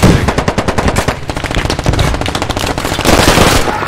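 Dense, rapid automatic gunfire from a vehicle-mounted weapon in the military shooter game Squad, loud and sustained in fast bursts throughout with no talk over it.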